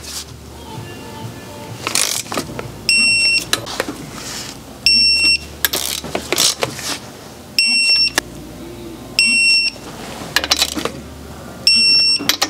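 A torque wrench tightens RB26 engine main studs during crankshaft installation. Short electronic beeps repeat about every two to three seconds, loud and close, with ratcheting clicks and shuffling between them.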